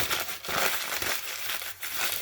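Several brown paper bags are crumpled up by hand in a close, loud run of crinkling and crushing bursts, with short pauses between squeezes and no talking.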